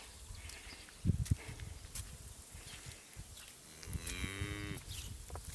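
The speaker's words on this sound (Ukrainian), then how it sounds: "Чого мукаєш? Спи." A cow on a household farm gives one low, drawn-out moo near the end, fairly faint and a little distant, after a couple of soft thumps and quiet background noise.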